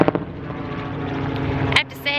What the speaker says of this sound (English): as I walk towards the Cirque du Soleil and a helicopter flies overhead